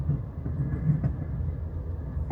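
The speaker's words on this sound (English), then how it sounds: "Got another train coming into the station there." A train rolls into Union Station before a California Zephyr boarding, a steady low rumble with faint rail clatter heard from nearby on the platform.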